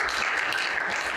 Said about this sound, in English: If I do a good job, clap well for me.